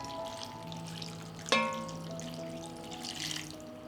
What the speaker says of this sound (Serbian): I kupus ću preliti sa 500 ml vruće vode.